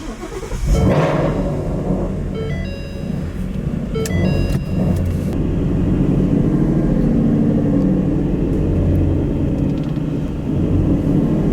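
A twin-turbo Ford Mustang rolls in close by, its deep engine rumbling steadily with a brief rev, loud and continuous and with no talking.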